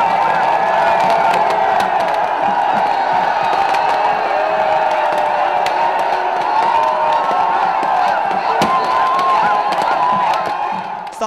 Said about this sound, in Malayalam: കരഘോഷങ്ങൾക്കും ആർപ്പുവിളികൾക്കും നടുവിൽ പാപ്പാഞ്ഞിക്ക് തീ കൊളുത്തി.